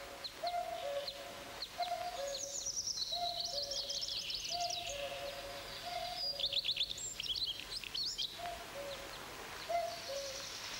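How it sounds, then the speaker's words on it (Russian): A cuckoo calls its repeated two-note song at a steady, regular rhythm from some distance away. Other birds chirp and twitter in bursts around it in a quiet outdoor setting. "Я слушаю кукушку."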